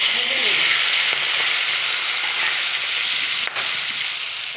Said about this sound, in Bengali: কড়াইতে তেল দিয়ে দিয়েছি। এবার আমি এই চিংড়ি মাছটা ভেজে নেব।